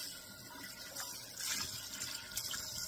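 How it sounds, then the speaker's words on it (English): Water runs into an antique Griswold cast iron skillet, a soft trickling pour that swells into a brief gush partway through, quiet and close, with no talking. "Get a little bit of water in there."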